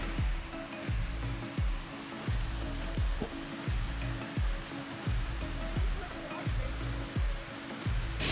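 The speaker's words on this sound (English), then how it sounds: "Another waterfall," A waterfall at Ricketts Glen gives off a steady broad rush of falling water, and a regular low thumping pulse runs through it without a break.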